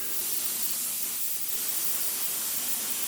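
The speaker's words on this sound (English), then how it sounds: "let's continue just spraying this up" Aerosol primer spraying onto miniature models, MIG paints, a steady close hiss of the spray can running without pause throughout.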